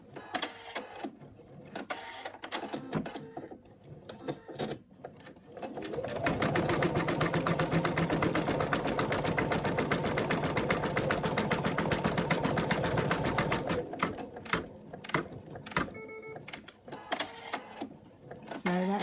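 An embroidery machine stitches the ears of a Monty the Monkey appliqué design, a steady rapid mechanical whirring that holds for several seconds mid-clip, framed by quieter handling sounds before and after.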